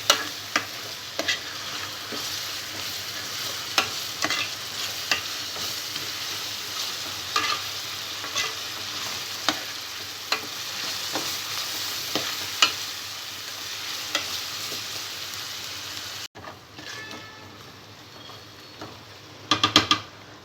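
Ginger garlic paste sizzles steadily in a pan with turmeric, while frequent sharp ticks and scrapes of stirring run through it. The sound drops out briefly near the end, then returns with a quick burst of stirring clatter.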